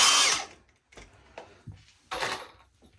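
A power drill drives screws into a wooden target stand, a loud brief whir at the start followed by quieter intermittent clicks and knocks of the screw seating in the wood.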